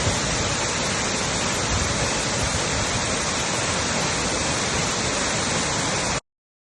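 Waterfalls at Ban Gioc, Vietnam, one of many cascades around the main fall, roar as a steady, dense wash of rushing water that stays loud and unbroken throughout with no voices.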